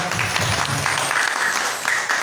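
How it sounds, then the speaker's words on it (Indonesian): Church congregation applause, a dense wash of many hands clapping at once, loud and sustained across the whole moment with no voices on top. "bisa beri tepuk tangan lagi sekali meriah untuk Tuhan kita"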